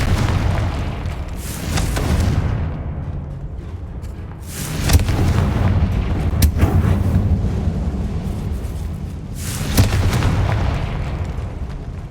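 Confringo fire spells blasting in Hogwarts Legacy: four loud, deep booms land a few seconds apart, each with a rumbling tail, over a constant low background roar and no voices.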